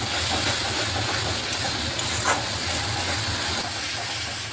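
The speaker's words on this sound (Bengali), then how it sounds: "ভালোভাবে মশলাটাকে কষিয়ে নিচ্ছি।" Spice paste seasoned with salt and sugar fries in oil for a kaliya curry, giving a loud, steady sizzling hiss that runs unbroken from start to finish with no voices.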